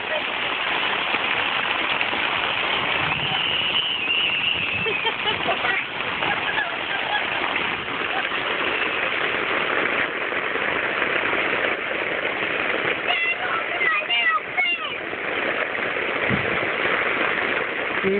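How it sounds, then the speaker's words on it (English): Steady rain patters on a tent from inside, a dense continuous hiss with occasional louder drops and splashes, close and even throughout; a few faint voices murmur briefly beneath it. "And Chiquitito's just watching the rain come."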